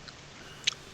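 Crunchy chewing from someone eating during a tabletop role-playing session: a single short, crisp crunch stands out against a quiet background.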